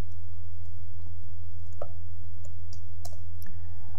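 Keys on a computer keyboard are struck in sparse, irregular clicks over a loud, constant low electrical hum, with no one speaking.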